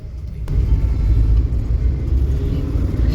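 A car cruises along the Outer Ring Road in Hyderabad at highway speed, with a steady, loud low engine and tyre rumble filling the whole stretch and no talk.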